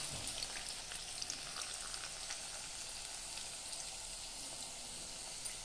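Onion and dal tempering frying in a pan for a Konkan-style banana flower stir-fry, giving a steady, soft sizzle that runs evenly throughout with no talking.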